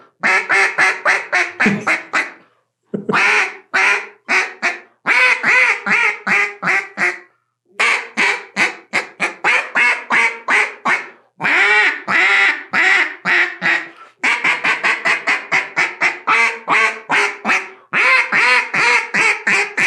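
A duck call sounds a young duck's rapid quacks in fast repeated bursts with short gaps, loud and close, one sequence breaking off abruptly partway through.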